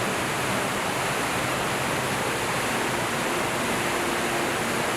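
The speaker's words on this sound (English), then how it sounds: "Victoria Falls is the world's largest waterfall by sheet flow, plunging 108 meters into the Zambezi River Gorge." Victoria Falls plunges 108 meters into the Zambezi River Gorge in a constant, dense roar of falling water, steady and loud throughout with no voices.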